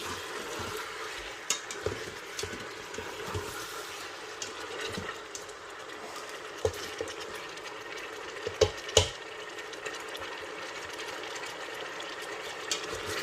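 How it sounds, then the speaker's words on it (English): Tomatoes cook in an Instant Pot on sauté mode, with a soft continuous sizzle and scattered light scraping clicks of a spoon stirring, close and fairly quiet, with no talking. "So just stir that in"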